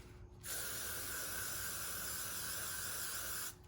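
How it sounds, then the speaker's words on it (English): A steady, close hiss of spray onto a wig's lace runs for about three seconds, starting and stopping abruptly, with no talking. "I'm going to go ahead and spray a generous amount"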